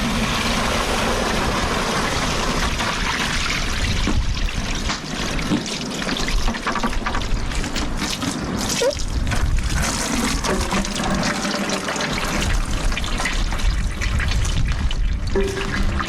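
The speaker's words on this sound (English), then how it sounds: "After soaking, we gently drain the meat in a colander to remove excess water." Water trickles and drips steadily from soaked moose meat draining in a colander, a close continuous splashing flow like liquid running through holes, with no voices.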